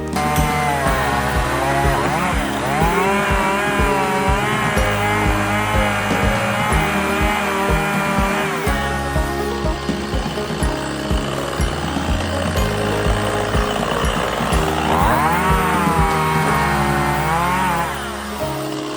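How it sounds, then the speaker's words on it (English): A chainsaw cuts up a fallen tree into firewood-sized pieces, its engine roaring loud and close throughout, revving and bogging in repeated surges as the chain bites through the wood. "we're gonna finish cutting up this tree and getting it all out of here and cutting it into manageable pieces"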